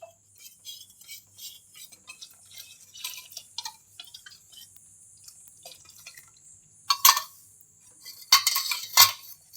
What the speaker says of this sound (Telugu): ఇది కొంచెంసేపు ఒక 2 నిమిషాలు కలుపుదామండి చిక్కబడే వరకు.